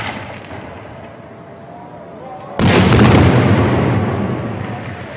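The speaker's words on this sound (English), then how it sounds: "That evening, the final firework is lit to mark sundown." A single firework bursts with a sudden loud boom at sundown ending Ramadan in a Syrian town, its rumble decaying slowly over a few seconds after a quieter ambient lead-in.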